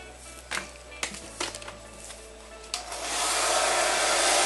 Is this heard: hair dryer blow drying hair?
yes